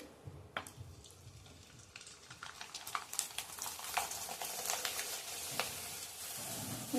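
Rice papdi fries in hot oil with a steady crackling sizzle, sharp pops and bubbling rising in intensity, close and continuous with no voices.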